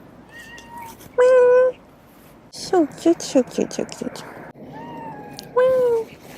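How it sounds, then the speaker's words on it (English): A cat meowing loudly in a church, long drawn-out yowls repeating several times, close and clear, with a person talking softly between the calls. "now we have full-on crazy cat"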